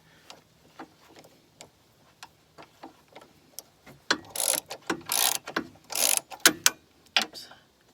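A ratchet snugs bolts on the front sway bar of an R56 Mini Cooper S, a string of faint irregular clicks that turns into louder, denser bursts of rapid ratcheting halfway through, heard close up without speech.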